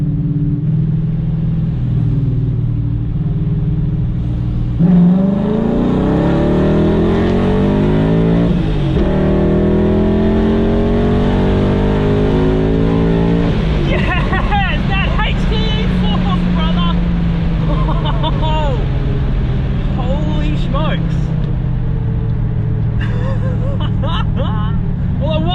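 A tuned V8 BMW M5 at a drag race rumbles at idle, then accelerates hard with rising engine pitch through several gear changes, loud and close. A driver speaks over the engine noise throughout.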